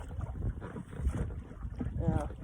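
Strong wind buffets the microphone on a fishing boat on Merrill Lake north of Campbell River, a continuous low rumbling roar with faint voices underneath.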